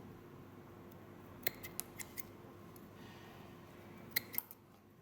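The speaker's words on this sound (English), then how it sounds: "grab our scissors and cut them." Scissors snip cotton wick while an RTA coil is being set up, a handful of small sharp clicks, close and quiet, in two clusters over a faint background hiss.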